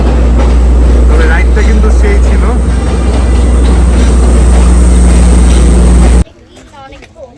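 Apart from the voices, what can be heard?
train passing by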